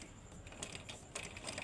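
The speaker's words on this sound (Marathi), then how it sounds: "तर आपण आता बघा मी शिलाई मारून घेते." A sewing machine stitches a blouse cup in short mechanical bursts, soft rattling clicks from the needle and feed at close range, fairly quiet with no talking.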